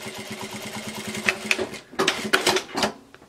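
A sewing machine backstitching on a fabric bag, a fast close run of needle stitches that stops briefly, then short bursts of stitching with clicks and handling noises.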